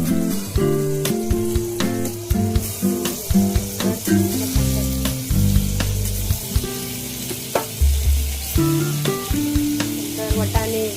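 Shredded cabbage sizzles in a pan of butter and a little oil for Mumbai-style pav bhaji, with loud frying and repeated scraping stirs in an uneven rhythm, close and without talk.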